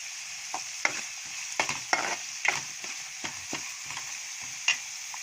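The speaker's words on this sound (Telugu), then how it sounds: "తర్వాత ఆనియన్స్ పచ్చిమిర్చి వేసుకున్నాక కరివేపాకు." Onions, green chillies and curry leaves fry in a hot pan for a Telugu fry-style curry, giving a steady bright sizzle broken by repeated stirring scrapes and clinks, close and alone with no talking.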